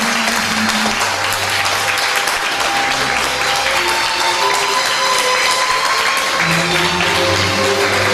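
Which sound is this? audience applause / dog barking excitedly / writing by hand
audience applause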